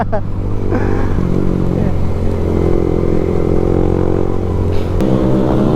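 Yamaha Sniper 155 motorcycle engines roar close by at night, a steady loud drone with shifting pitch as they speed along, with voices and clatter mixed in.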